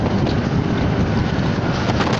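Loud, constant wind roar buffeting a helmet microphone on a Honda Forza 300 scooter at 100 km/h, a dense rushing noise with no speech over it.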